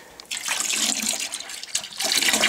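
Water poured steadily into a plastic primary fermenter while brewing beer at home, a loud, continuous rushing splash that lasts about two seconds with a brief dip partway through, and no talking.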